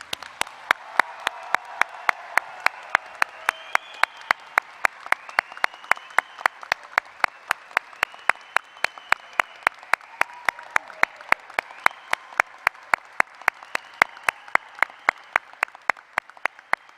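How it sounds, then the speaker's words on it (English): Prolonged applause for graduating law students at a 2021 school of law hooding ceremony: a long, even bed of clapping lasting well over fifteen seconds, punctuated by sharp, evenly spaced claps close by. "let's please give one more round of applause to congratulate the class of 2021."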